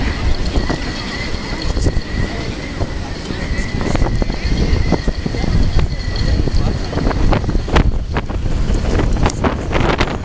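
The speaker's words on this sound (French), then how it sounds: "il y a un vent énorme par contre" Strong wind roars loudly and continuously across the microphone, with rushing gusts and a faint hum underneath, at a monument in Portugal.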